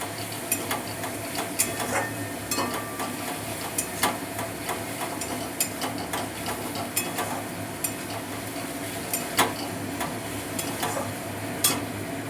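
Onion, ginger and garlic fry in a pan for pumpkin-greens dal, a steady low sizzle under repeated sharp scrapes and knocks of a spatula stirring at an irregular, unhurried pace, close and fairly loud, with no talk.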